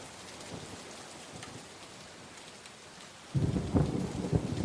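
Steady rain falls with distant rumbles of thunder on a rainy day, and a heavier, closer roll of thunder swells near the end. No voices.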